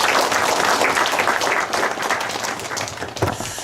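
A church congregation applauds warmly at an anniversary and ordination service, dense sustained clapping filling the room for several seconds with no voices over it.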